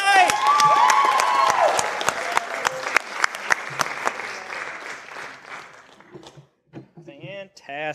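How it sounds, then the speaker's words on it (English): An audience at a poetry slam claps loudly, then the applause thins into scattered claps and fades away, with a few voices and cheers mixed in at the start. "Let's give one more round of applause for all of our poets tonight"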